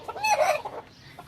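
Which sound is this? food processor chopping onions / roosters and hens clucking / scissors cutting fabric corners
roosters and hens clucking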